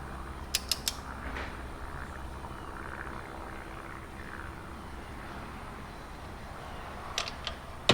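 A torque wrench tightens an EGR valve bolt on an Isuzu Trooper/Rodeo 3.5 engine, with a few quick faint ratcheting clicks at the start and again near the end over a quiet, steady background hum.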